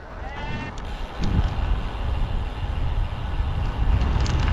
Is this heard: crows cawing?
no